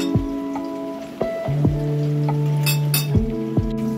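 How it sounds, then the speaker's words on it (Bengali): A spoon mixes mustard and poppy seed powder with water in a bowl, a run of ringing clinks against the vessel with sustained metallic tones, close and fairly loud with no speech. "সর্ষে পোস্তটা আমি জল দিয়ে গুলে নিয়েছি।"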